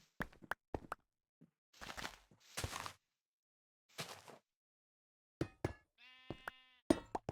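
Minecraft sheep let out a short bleat amid a scatter of blocky taps and clicks from in-game building, all quiet, with long silent gaps between sounds.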